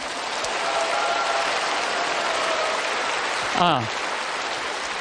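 Lecture audience giving a sustained round of steady applause, a dense even wash of many hands clapping at moderate distance, briefly interrupted by a short tonal sound near the end.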